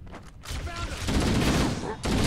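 Pistol fire in Halo CE Anniversary crackles in rapid, overlapping volleys of shots, loud and continuous, with a voice talking over the gunfire.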